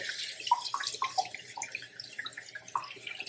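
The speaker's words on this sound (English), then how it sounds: "doing another rinse, and obviously it's draining itself out with the holes in the strainer" Rinse water drains out of rice through the holes of a strainer, a short run of trickling and dripping splashes, close and moderately loud, with no voices.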